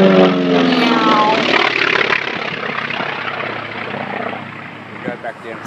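Aircraft engine drone from a plane flying over at the Hunter Valley Airshow, a loud steady roar throughout that eases slightly toward the end, with people talking over it.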